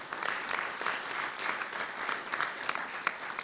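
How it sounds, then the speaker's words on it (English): An audience at a National Press Club awards luncheon claps steadily throughout, a dense patter of many hands at moderate distance with no talking. "So give a round of applause to them."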